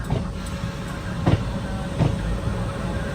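The Trichy to Trivandrum Intercity Express runs near Trivandrum, giving a steady low rumble and rolling hum with a couple of faint rhythmic clacks, with no voices over it.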